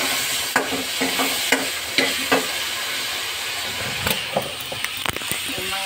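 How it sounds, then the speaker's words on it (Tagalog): Chili peppers are stirred into onions in a pan, giving irregular scraping and clinking strokes over a soft sizzle. "So, ihalo na natin dito sa sibuyas."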